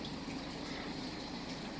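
Creek water flows and gurgles steadily along the stream, a constant faint rushing wash with no voices.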